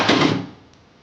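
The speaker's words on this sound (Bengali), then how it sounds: "এবার কড়াই বসিয়ে দিচ্ছি" A metal wok (karai) is set down on a stove while an egg curry with cauliflower is being cooked, giving a single clanking thud that rings briefly and fades within half a second.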